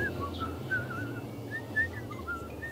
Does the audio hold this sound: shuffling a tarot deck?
no